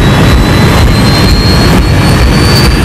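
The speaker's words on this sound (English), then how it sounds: "The crew monitors the speed as they accelerate down the runway." The jet engines of the Malaysia Airlines Flight 370 airliner roar as it accelerates down the runway on takeoff: a loud, dense, continuous rush with a steady high whine running through it.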